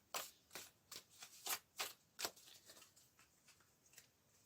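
Oracle cards shuffled by hand in a quiet room, a run of about a dozen soft papery riffling flicks that start crisp and fade as they go, with no talking.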